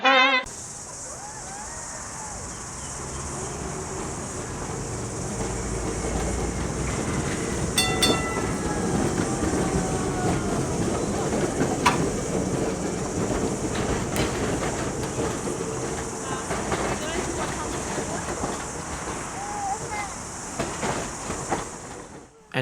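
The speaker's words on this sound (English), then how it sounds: "along came the crazy double-decker thingy, closely followed by the Baldwin steam tram" A double-decker tram and a Baldwin steam tram roll past at a transport museum, a long steady rumble of wheels on rails with faint clicks and squeals, and insects chirping in the background.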